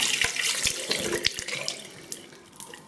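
A tap runs water in a thin, splashing trickle into a shaving soap bowl during bowl lathering, close and steady with small clinks and drips, no voices.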